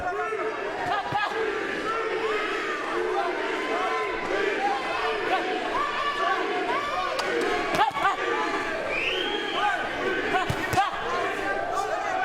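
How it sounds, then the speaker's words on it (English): Boxing arena crowd chanting "beast" in a rhythmic, distant roar of many voices, under a commentator's talk with scattered thumps and cheers. "Some of those in the crowd chanting beast."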